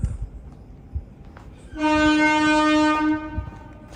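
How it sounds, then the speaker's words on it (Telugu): A sustained, tonal train horn sounds for about a second and a half over low rumbling and thumps. "ట్రైన్ సౌండ్, కంగారు పడద్దు."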